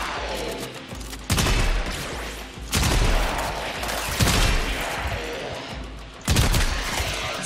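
Bursts of gunfire in the video game Warframe: several sharp, loud volleys at irregular intervals, each followed by a ringing tail, with no talk over them.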